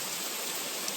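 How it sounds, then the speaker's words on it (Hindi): Steady rain pouring down outside a home, a dense, even hiss of falling water filling the short moment without pause or voices. "बारिश वारिश हो रही है"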